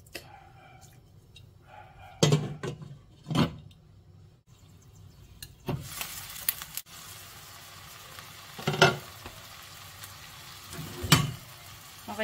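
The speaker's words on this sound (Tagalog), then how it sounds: "Pakulaan ko muna ng konti sa tubig." Frozen food heats in a little water in a home kitchen pan, giving quiet sizzling with several louder bursts of bubbling and stirring spread across the clip.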